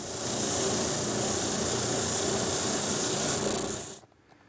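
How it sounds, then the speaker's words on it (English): Steady, loud hand sanding of a wooden S molding, a continuous abrasive hiss that runs unbroken for about four seconds before stopping abruptly. "I'm going to sand that smooth."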